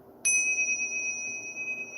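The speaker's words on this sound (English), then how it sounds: "I bought this bell or this tingsa from a musical auction." A tingsha bell is struck once and rings clear, with bright pure tones that hold steady and sustain for nearly two seconds over faint room noise.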